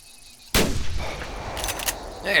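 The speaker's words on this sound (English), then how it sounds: "the 30-06 is a fairly loud weapon" .30-06 rifle in an outback hunting game: after near silence, a single loud, sharp gunshot cracks out and rolls into a long echoing boom across open terrain.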